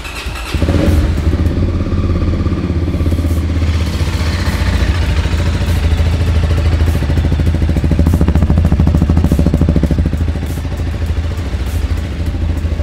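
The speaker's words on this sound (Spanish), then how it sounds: "Y ahora ahí escuchamos lo que sería la inyección y ponemos en marcha." A Voge motorcycle of 300 to 650 cc, heard close by as its fuel injection primes with a brief whir before the engine fires and settles into a loud, steady idle with a fast, even beat.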